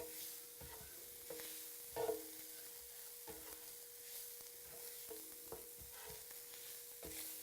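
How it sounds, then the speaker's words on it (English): Sausage with seasonings stirred in a hot pan, faint steady sizzling punctuated by repeated scraping strokes of a utensil at a loose, irregular rhythm. "And we'll just stir those around."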